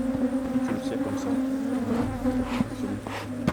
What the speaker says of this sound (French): ils vont enfumer les abeilles avant d'ouvrir la ruche